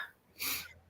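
A single short sneeze rings out faintly in the background during a conversation, a quick breathy burst with no voices over it.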